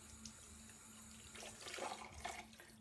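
Tap water running into a bathroom sink while rinsing after makeup removal, a faint steady flow that grows into louder splashing and gurgling toward the end.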